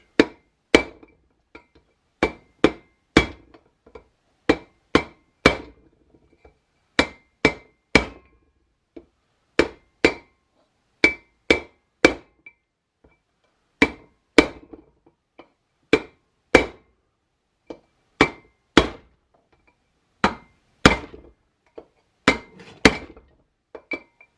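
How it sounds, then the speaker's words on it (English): A sledgehammer drives front hub parts onto a 1982 Jeep CJ7 Limited, landing as dozens of sharp, loud metallic strikes in uneven bursts and clusters with short pauses between, close by and with no talking. "And I drive them in a little farther. The sledge."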